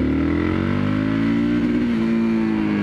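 A 2013 Yamaha MT03 motorcycle revving up out of a corner on a test ride, its engine note close and loud, pitch climbing steadily then dipping and climbing again with a gear change, no talking.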